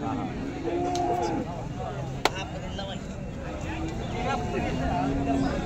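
Cattle at the Modnimb livestock market, with animal sounds mixed into a steady crowd murmur and people talking nearby, plus one sharp knock partway through.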